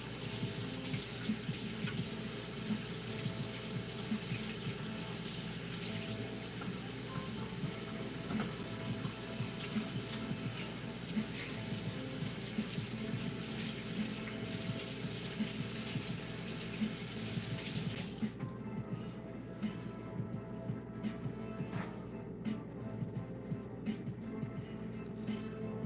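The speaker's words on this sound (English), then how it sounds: "Give my hands a rinse." Tap water running into a kitchen sink while hands are rinsed, a steady close hiss and splash that carries on for most of the time, then continues more softly toward the end.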